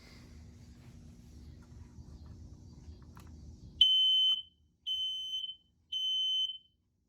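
Firex photoelectric smoke alarm going off after a low background hum, giving three loud piercing high-pitched beeps in a steady pattern with short gaps between them.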